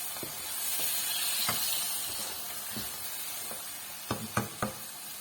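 Yogurt masala for black pepper karahi frying over a medium flame gives a steady, close hiss and sizzle, with a few sharp scraping taps near the end.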